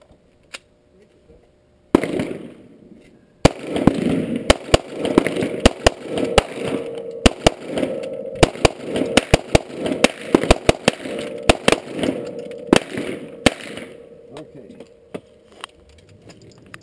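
Handgun and .22 rifle shots at outdoor target practice, a long run of sharp cracks at irregular intervals, some in quick clusters, with faint voices and background rumble between them.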